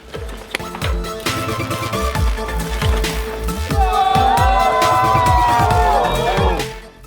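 Spectators cheer and whoop at a rocky trial section of an Enduro World Series race in Finale Ligure, a loud, continuous crowd roar that swells and holds near the end, with a voice briefly calling out.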